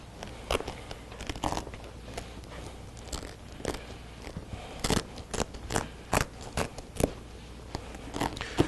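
Velcro strips on a 2003-2006 Chevy/GMC truck seat cover being peeled off the seat foam an inch at a time, giving a series of short, sharp ripping tears up close, with no talking.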